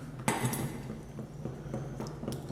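Yeast dough with an egg being mixed in a bowl with a spatula, giving soft, close scraping and light knocks of the utensil against the bowl, with one sharper clack near the start.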